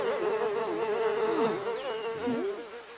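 Flies buzz in a cartoon scene, a close, loud wavering drone that shifts pitch as they swoop around, continuing for the whole stretch with no voices.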